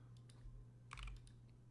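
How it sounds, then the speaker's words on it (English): Computer keyboard arrow keys tapped during PCB layout work, a handful of light, quick clicks with a brief cluster in the middle, faint over a steady electrical hum. "I use the keyboard a lot. I'm using the arrow."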